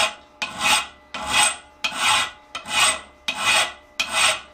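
A hand file rasps across a steel butcher chasing tool held in a vise, six long steady strokes in a regular rhythm, each a loud, bright scrape separated by brief pauses, close up with no voices.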